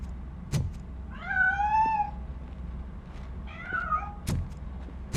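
A cat meows twice in a Robocop video game as it escapes, two clear drawn-out meows between sharp thuds, over a low background hum.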